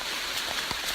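Rain falls on the Appalachian Trail as a steady, close hiss of drops with a few louder individual patters, with no talk.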